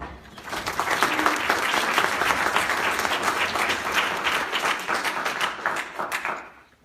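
An audience applauds to welcome a speaker at a lecture on the Book of Exodus and Chagall, dense clapping that swells quickly, holds steady for several seconds, then tapers away.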